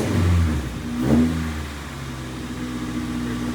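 Stock OEM Acura Integra GSR engine revving once up and settling back to a steady idle hum, close and fairly loud with no talk.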